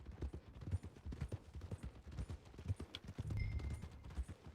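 Horse hooves in Red Dead Redemption 2, a steady walking clip-clop on the ground with close, rhythmic footfalls and a brief mechanical clink.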